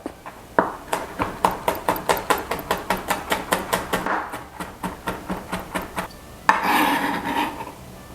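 Garlic cloves chopped with a knife on a cutting board, a steady run of some two dozen sharp, evenly spaced blade knocks close by, ending in a brief scraping sweep.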